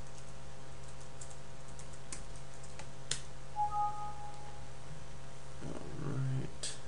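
Keys tap on a computer keyboard as login credentials are entered, scattered soft clicks in an irregular rhythm over a quiet hum, with a brief faint voice near the end.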